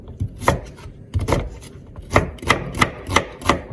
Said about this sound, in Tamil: இந்த மாதிரி கொஞ்சம் பெரிய சைஸில் வெட்டுவோம்.